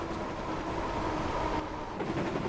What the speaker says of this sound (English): The train was soon running nicely